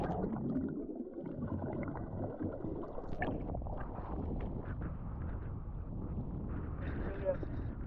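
Wind sweeps across Paralia Kato Stalos beach in Crete on a sunny late-April day, a steady blustery rumble buffeting the microphone throughout with no break.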